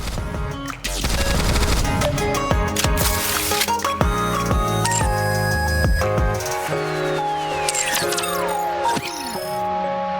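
Gunfire from a character's shooting pose in the NIKKE game, rapid loud bursts layered with bright musical tones, chimes and whooshing effects, a falling sweep near the end.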